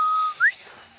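A single short whistle: a thin steady tone, a brief break, then a quick upward-sliding chirp, close and clear.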